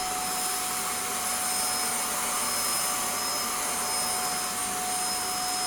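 A Shark NV680UK Powered Lift-Away vacuum cleaner with a repaired motor runs in straight suction, producing a constant loud whining roar with a thin high tone, unbroken and up close from start to finish.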